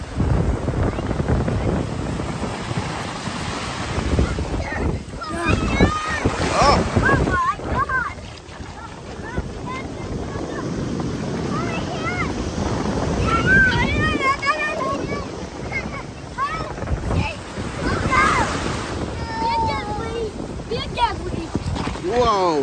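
Ocean waves at a beach on a summer trip, surging and crashing with heavy wind buffeting the microphone, while people talk and exclaim throughout.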